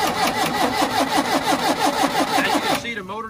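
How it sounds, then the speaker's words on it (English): A Generac 12.5 kVA generator's motor cranks over strongly without catching, a steady rhythmic churning of rapid pulses that runs for about three seconds, then drops away as a voice begins to talk. "We'll let you hear that motor spinning over so you can see this motor does spin pretty strong."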